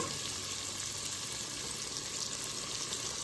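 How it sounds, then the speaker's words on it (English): Peppers, onion, garlic and thyme sauté in a pot for a one-pot coconut curry, a steady, close sizzle that holds evenly throughout with no talking. "We're gonna add in all our vegetables right now. That's all our peppers, onion, garlic, and thyme. And we're just gonna give this a nice saute."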